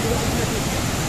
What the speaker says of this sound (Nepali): ए यो झरनामा हामी घुम्न आएको छौँ होइन?